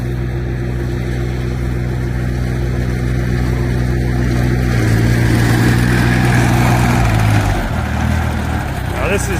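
The engine of a 2012 Canycom S160 crawler carrier runs steadily and loudly up close as the machine spins around on gravel. Its droning hum holds even, with a slight shift in pitch partway through.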